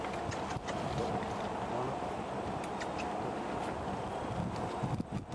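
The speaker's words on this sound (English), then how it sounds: "The wind's blowing here a little bit" Wind blowing outdoors where a horse is being worked on hoof handling, a steady broadband rush close on the microphone that stays fairly even for the whole stretch with small gusty swells.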